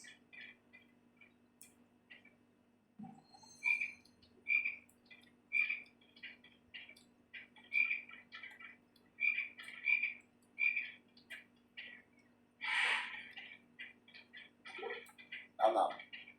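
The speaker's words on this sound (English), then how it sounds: "You have to knock the frog out before you can catch it." A chocolate frog in a Harry Potter video game croaks in a regular series of short chirpy calls spaced about a second apart, fairly faint, with a few louder game noises near the end.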